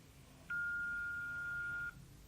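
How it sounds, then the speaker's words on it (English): A single steady electronic voicemail beep tone holds for over a second at moderate level, then cuts off cleanly, with faint line hiss before and after. "Please leave your message after the beep."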